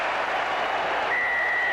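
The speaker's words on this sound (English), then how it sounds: "the crowd are loving this" Rugby sevens crowd at the Middlesex 7s cheering and applauding a try scored at half-time, a dense, steady roar of clapping and shouting that fills the whole moment, with a whistle-like tone rising near the end.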